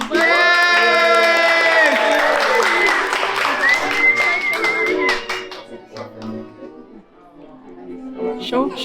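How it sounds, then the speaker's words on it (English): A theme park crowd at a Tron Lightcycle Run preview day claps and cheers loudly, with shouting children and a bright synthesized musical tone mixed in, the noise fading toward the end as chatter continues. "And a round of applause for the Beast, everyone."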